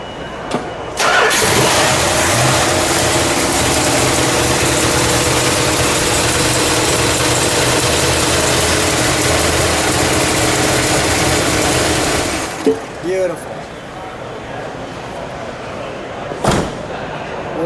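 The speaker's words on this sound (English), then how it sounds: "Can we start it while the hood's open?" A 1971 Dodge Charger R/T with a 426 Hemi V8 fires up with the hood open and settles into a loud, steady, rumbling idle for about eleven seconds before shutting off abruptly, followed by a few clunks and brief voices.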